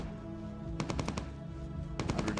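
Automatic weapon fire from the online game Entropia Universe: two rapid bursts of about five shots each over a steady background hum, loud and close.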